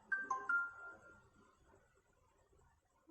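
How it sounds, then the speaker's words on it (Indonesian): A phone notification chime plays, a short bright two-tone alert that rings briefly then fades, faint and alone with no talk. "Ada notif"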